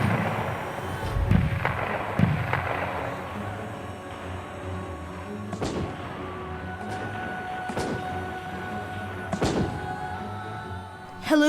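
Cannon fire from sailing warships in an Armada-era naval battle, with several distant booming shots spaced a few seconds apart over a low rumbling background.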